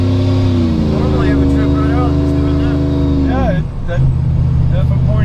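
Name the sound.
Procharged Chevrolet Trailblazer pulling out and accelerating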